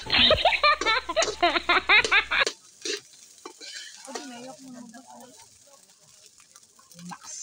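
Fried rice made without garlic being stirred in a pan at a camp, with loud, busy scraping and sizzling for the first couple of seconds, then quieter clinks and soft kitchen noises.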